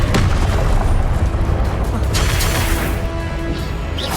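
Confringo spell explosions in Hogwarts Legacy gameplay: loud, dense booms and crashing blasts that overlap and fill the whole stretch without a break.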